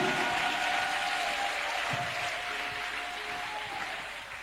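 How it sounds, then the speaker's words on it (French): Worshippers in a church give loud, continuous applause for Jesus during a pastor's testimony, a broad wash of clapping that tapers slightly over time. "Acclame très fort pour le Seigneur Jésus."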